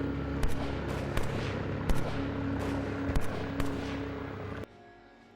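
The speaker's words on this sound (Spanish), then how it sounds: "solo se escuchan disparos" Gunshots ring out at close range in a series of sharp, separate cracks over a rumbling background, about eight shots spread irregularly before the sound cuts off abruptly.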